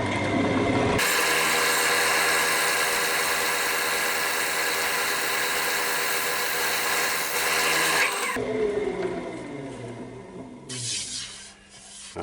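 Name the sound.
spindle gouge scraping a sycamore platter on a wood lathe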